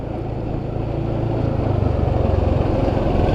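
A motorcycle engine runs steadily as it rides through a village in Klaten, a loud, close, rumbling drone that builds slightly in intensity throughout.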